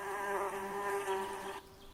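A bee buzzes loudly close by on a woodland path in Knapdale, a steady droning hum that holds for most of the moment before cutting off abruptly near the end.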